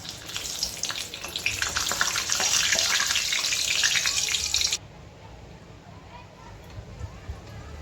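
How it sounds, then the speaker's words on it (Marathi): Green chillies hitting hot oil in a pan let off a loud, steady crackling sizzle for about five seconds, then the sound drops to a soft low hiss. "आता आपण मंडळी ना ह्याच्यामध्ये आपण मिरच्या भाजून घ्यायच्या आहे की आपलं तेल तापलेलं आहे"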